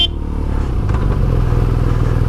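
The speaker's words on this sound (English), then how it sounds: "It is obviously doing a bit of engine braking, which obviously does make some noise" A motorcycle boxer engine runs steadily at low revs under engine braking, with a deep, even rumble and light mechanical clatter, close by and without any voices.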